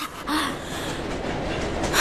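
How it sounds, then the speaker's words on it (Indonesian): A train rolls along rails in the Boruto anime, giving a steady, fairly loud rumbling roar with a faint rhythmic clatter, heard alone without talk. "menurutku kereta ini cukup nyaman. Dengan kereta ini, kita tidak usah jalan kaki lagi."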